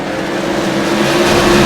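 Modified race cars roar together on a green flag restart at a short oval track, a dense, steady engine drone that swells slightly louder toward the end.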